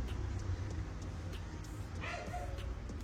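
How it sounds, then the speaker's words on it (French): A dog yips and whimpers faintly in the distance, a few short high-pitched barks over a low background rumble. "Ça c'est rien, c'est le chien qui est fou."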